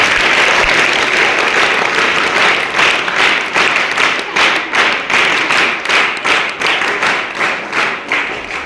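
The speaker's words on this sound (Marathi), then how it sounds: "जोरदार टाळ्या सगळ्यांसाठी झाल्या पाहिजे" An audience at a speech competition breaks into loud, sustained applause that settles into a rhythmic unison clapping beat, with no voices over it.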